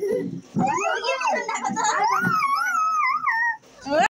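At a birthday party game, a voice imitates a chicken's call with wavering, drawn-out high cries that rise and fall, close and fairly loud.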